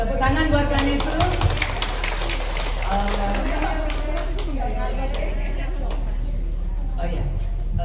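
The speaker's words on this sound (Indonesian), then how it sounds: "Oke, tepuk tangan buat Tuhan Yesus." A women's church congregation claps together for Jesus, steady brisk clapping from many hands mixed with voices and low room hum, continuing for several seconds before fading.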